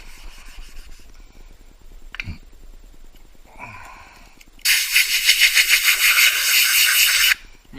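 Steel wool is rubbed gently over a wooden guitar body to clear small marks, starting with soft scattered scrapes, then a loud, close, steady rasp lasting a few seconds before stopping.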